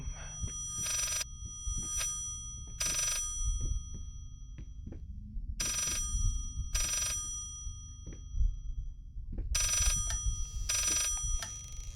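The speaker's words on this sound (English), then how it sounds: "Where the fuck is this phone?" A telephone rings repeatedly in the horror game Layers of Fear, loud bright bell bursts recurring in uneven pairs over a low rumbling ambience with scattered thuds and clanks.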